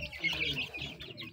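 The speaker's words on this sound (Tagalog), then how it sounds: "at ito naman ay mixed heritage chicken" A mixed heritage chicken gives a few soft, quick clucks nearby, fairly faint and with no talking.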